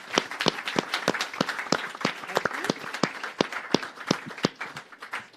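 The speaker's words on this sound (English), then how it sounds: "There are two important people we need to give a big round of applause, which is Nicola Edwards from the Music Comm" Applause from an audience at a music summit, with distinct close claps in a quick, fairly regular rhythm and lighter clapping from others behind, steady throughout.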